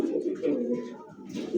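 Domestic pigeons of fancy and racing breeds coo close by in a low, throaty, rolling burr that continues steadily through a short moment.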